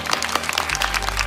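A crowd applauds with steady, dense hand clapping, fairly loud and continuous throughout, with a low hum underneath.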